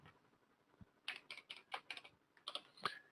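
Quiet, close clicking of keys on a computer keyboard, a few isolated taps followed by a quick irregular run of keystrokes over about two seconds, with no talking.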